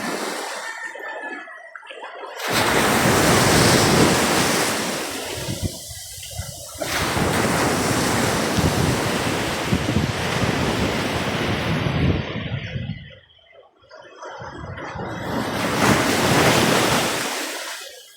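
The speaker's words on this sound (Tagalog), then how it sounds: "Malalaking alon mga kadagat kahit nandito lang sa barahanan." Heavy ocean surf roars continuously as large waves break one after another near a boat landing in bad weather, with short lulls between surges and wind rumbling.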